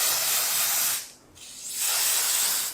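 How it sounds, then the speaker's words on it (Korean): Hair spray hissing from a can onto a braided bridal updo, two long close bursts of broadband spray separated by a brief pause. "스프레이 왕창 뿌려야 돼요."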